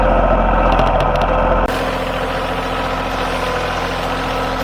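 A Bobcat CT2025 compact tractor engine idles and runs steadily at close range, a continuous low rumble that shifts slightly in tone partway through, with no talk over it.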